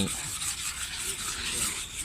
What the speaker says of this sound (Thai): จะใช้กระดาษทรายเบอร์พันนะครับนี่ครับ จะมานี่ครับ มาขัดก่อนนะครับรูปน้ำขัด ขัดกระดาษทรายให้